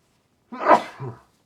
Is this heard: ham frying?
no